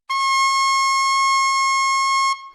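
A single sustained saxophone note played with normal embouchure, steady and clean with a strong harmonic stack, held for about two seconds before stopping abruptly.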